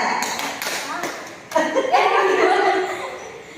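A group of students in a guidance session claps in a one-two-three sequence of sharp bursts, with laughter and chatter rising after the claps.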